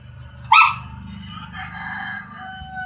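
White dogs on a farm: one loud, sharp bark rings out near the start, followed by fainter, drawn-out calls over a steady low background rumble.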